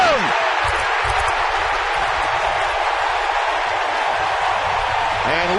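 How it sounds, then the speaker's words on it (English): A roaring baseball stadium crowd cheers wildly after a throw home in a San Diego at San Francisco game, a loud, continuous wall of noise that swells steadily without pause. "And listen to this crowd."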